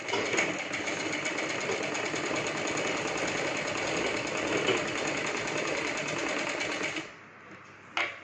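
A sewing machine runs steadily, stitching fabric for a child's lehenga, a close, continuous whirring drone that holds for about seven seconds before stopping abruptly, followed by a brief clunk.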